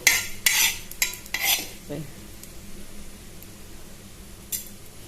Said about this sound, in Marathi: आतां हे पयलीं भाजूया तव्यार. हे पळया तांदूळ आनी मेथयो हांवें भाजल्यो.